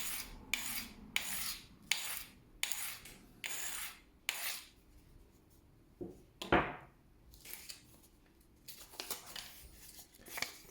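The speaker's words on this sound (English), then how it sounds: "I'm just going to use the Lansky puck just to blunten it a bit" Kitchen knife edge blunted on a Lansky puck: a series of short, close rasping strokes, about a dozen in quick rhythm, pausing once before a brief sharper scrape and another run of strokes.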